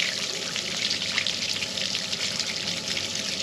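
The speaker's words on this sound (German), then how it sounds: "das Frischwasser, das wir gerade reingelassen haben, wieder ablassen, in Hoffnung, dass alles an Eis raus ist" Fresh water draining out to flush ice during an extreme Mongolian winter, a steady loud rushing flow with no pauses, close by.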